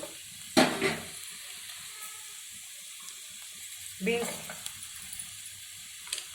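Green chillies and onion frying in a pan for sweetcorn rice, a quiet steady sizzle with a couple of louder bursts as they hit the oil and get stirred, no voices.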